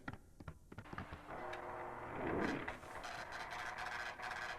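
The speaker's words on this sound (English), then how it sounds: "Ah, those are printer sounds." An office printer runs through a print job for an agenda, a steady mechanical whir with rising and falling tones and small clunks, moderately loud and unbroken, with no one speaking over it.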